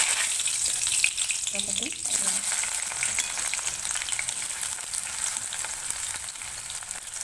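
Bay leaves crackle and sizzle in hot oil in a pan while raw turmeric curry is being cooked, a steady close frying hiss with a brief stir and a few spoken words.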